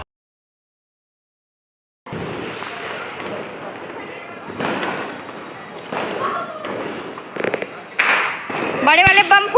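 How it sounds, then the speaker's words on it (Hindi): Large firecrackers going off during a Diwali celebration; after two seconds of silence, a dense crackling and popping burst runs continuously, with sharper, louder bangs near the end, fairly close. "बड़े वाले बम फूटने जा रहे हैं।"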